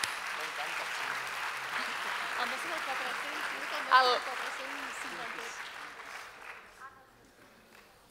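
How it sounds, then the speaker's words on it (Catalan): Gala audience applauding a winner at a theatre season launch, moderate clapping under a host's voice that fades out toward the end. "Tenim guanyadora, un aplaudiment, clar que sí."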